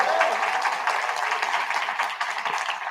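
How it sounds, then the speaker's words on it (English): Audience at a national exposition event gives a round of applause for Long Island University, a broad, sustained wash of clapping from a large crowd, with some voices mixed in. "I'd love for a great big round of applause for Long Island University."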